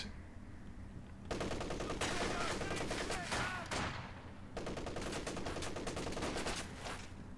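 Machine gun fire in the Company of Heroes 2 strategy game: dense, rapid bursts of automatic gunfire running almost continuously, loud and close, with brief lulls between volleys.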